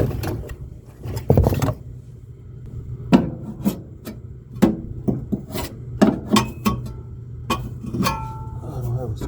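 A worker scrapes an old gasket off the mounting face of a failed furnace inducer motor, producing repeated short rasping strokes in irregular bursts, close up, over a steady low hum.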